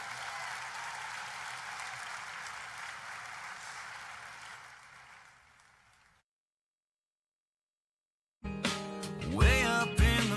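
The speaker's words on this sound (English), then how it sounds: "Let's give another round of applause for Secretary Naig." Conference audience applauding a secretary, a steady broad wash of clapping that fades out to silence, followed by music starting up.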